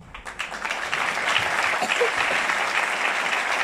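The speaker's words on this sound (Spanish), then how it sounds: "Y también quiero pedir un aplauso para ellos." A gathering of Paraguayans in Ireland applauds at a community recognition event, clapping building quickly from a few hands into sustained, even applause that fills the room, with a faint murmur of voices beneath.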